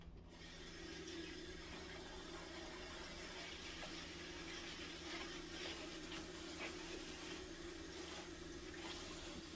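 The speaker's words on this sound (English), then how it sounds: "I'm just gonna wash it real quick." Tap water runs steadily at low volume while a jar lid is rinsed under it, with faint clinks and handling noises mixed into the soft hiss.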